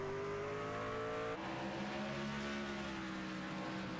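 Race cars, including the number 88 coming off a corner a little sideways, roar steadily around the track. The engine drone is sustained and layered at a moderate distance, and its pitch shifts partway through.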